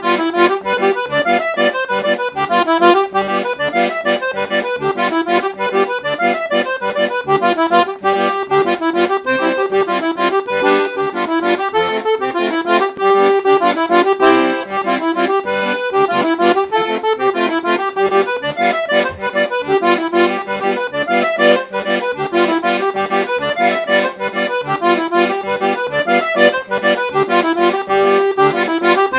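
Piano accordion plays a Brazilian forró tune with a left-hand forró bass pattern, a continuous busy melody with steady rhythmic pulses, loud and alone.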